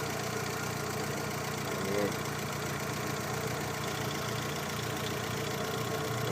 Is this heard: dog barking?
no